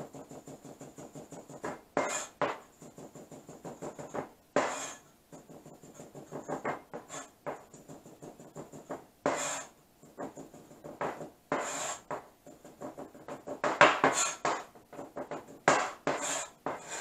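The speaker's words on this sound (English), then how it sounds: "and the garlic. Just mince that real well" A knife mincing garlic on a cutting board, crisp rhythmic chopping taps in quick clusters separated by brief pauses, close and fairly quiet.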